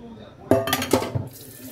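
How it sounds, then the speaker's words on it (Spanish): Water is drained from a pot of boiled vegetables in a home kitchen, with a couple of clanks of the pot and a short splashing pour close by. "por aquí puse a cocer una verdurita y le estoy sacando el agua"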